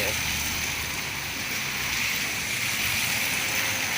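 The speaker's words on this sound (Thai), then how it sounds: "น้ำท่วมครับน้ำท่วม" Continuous rushing flood water churning and splashing steadily around a moving car on a flooded street, with broad hiss throughout.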